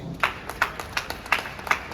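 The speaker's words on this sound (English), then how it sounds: "You all deserve a big round of applause." An audience at a future innovation summit keynote applauds, a moderate patter of separate claps at close range with a faint steady hiss behind it.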